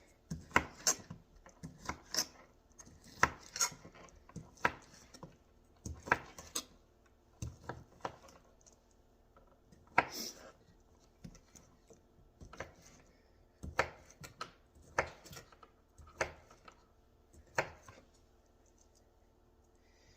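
A knife cuts through sausages on a board, producing a series of close, crisp chopping taps at an irregular but steady pace, with short quiet gaps between strokes and no talk.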